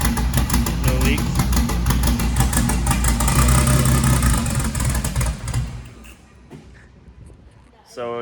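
BMW E36 engine fitted with a Garrett turbo, idling roughly after a cold start, a loud close chugging drone with clattering pulses that fades after a few seconds, with a voice talking over it.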